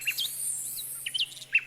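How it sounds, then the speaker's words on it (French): A mechanical toy nightingale sings a quiet run of high, quick chirps and trills over a low steady hum, the notes coming in short bursts spaced irregularly. "l'empereur s'endormait en écoutant chanter l'oiseau mécanique"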